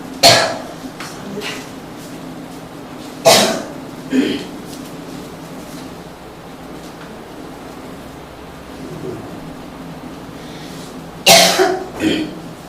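Several separate coughs and throat-clearings break the quiet of a church during a Sunday sermon, a pair early on and a final double cough near the end.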